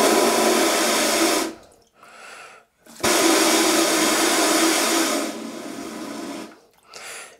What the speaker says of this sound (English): So feminine wash would be a further forward wash.